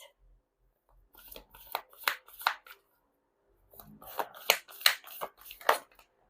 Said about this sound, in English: Ooh, you saw me shuffle.